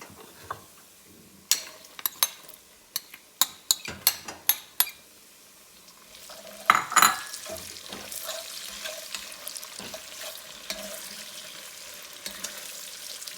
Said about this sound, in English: Now that the bacon is quite done, I'm going to add the onions.